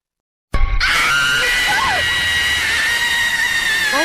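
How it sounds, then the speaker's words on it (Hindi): After a moment of silence, a loud, sustained high-pitched scream erupts above an old mansion and holds steady, ringing harshly until the end. "हवेली के ऊपर एक तेज चीख सुनाई दी"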